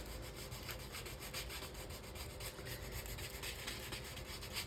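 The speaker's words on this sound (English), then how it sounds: "So I think I am going to back up a little and sandpaper this a little." Sandpaper rubs back and forth across the glossy coated surface of a hotel card in a steady, continuous scratchy rasping with fast repeated strokes, close and fairly quiet, with no voices.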